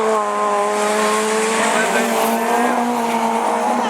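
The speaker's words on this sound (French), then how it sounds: "l'étonnant Mercier, et sa petite 205" A Peugeot 205 rallycross car races at a Division 4 French championship round at Lessay, its engine a loud, sustained whine with shifting pitch, mixed with other cars and tyre noise under an announcer's commentary.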